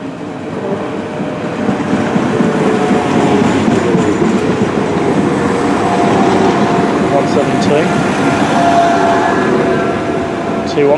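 An Arriva Trains Wales Class 170 diesel multiple unit runs through a station, a steady loud rumble and rail clatter lasting throughout, with faint squeal near the end and voices in the background.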